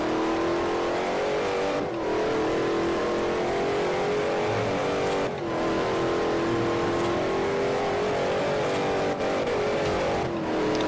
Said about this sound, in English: This is mainly a drifting car, not necessarily a, you know, race and not hit anything car.